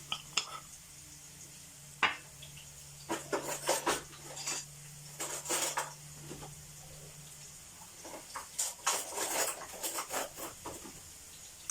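Spices stirred into food in a cooking pot, a spoon scraping and clinking against the metal in irregular bursts of rattling scrapes, close and fairly quiet, with no one talking.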